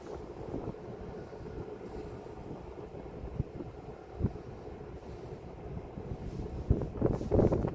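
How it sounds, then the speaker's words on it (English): Wind on a cold night buffets the microphone outdoors as a steady, low, rumbling roar, with a few soft thumps and a stronger gust near the end. "Little breezy cold out tonight."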